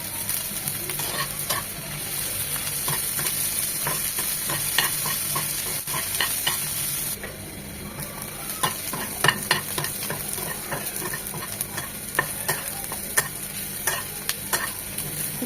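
Green and ripe chillies fry in hot oil in a pan, a continuous close sizzle punctuated by scraping clicks from stirring, with no voices.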